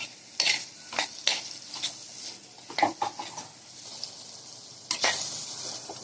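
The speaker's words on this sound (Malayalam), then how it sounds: "ഇട്ട് ലൈറ്റായിട്ട് ഒന്ന് ഫ്രൈ ചെയ്യാം." Shallots, green chillies and curry leaves fry in a pan for crab masala roast, with an ongoing sizzle under a series of sharp, irregular metal spatula clatters and scrapes close by.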